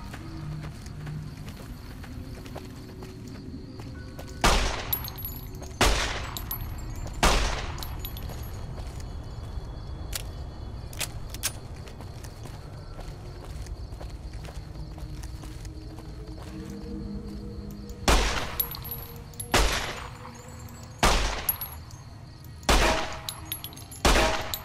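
The Borz, a homemade Chechen submachine gun in Fallout New Vegas, fires in short loud bursts, scattered single volleys at first, then quicker clusters of shots near the end over quiet background ambience.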